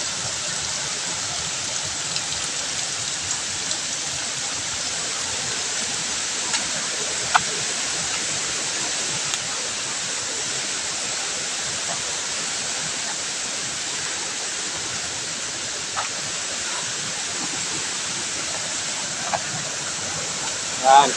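Steady rushing water from a flowing river swollen by rain near Skalon Falls, a dense broadband hiss that stays constant throughout, with a few faint clicks and footsteps nearby.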